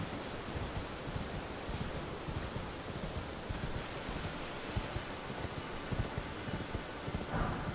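Torrent, the spectral steed in Elden Ring, trots with steady clip-clopping hooves, a dense, continuous patter of close hoofbeats over a rushing, rain-like ambient wash, with no voices.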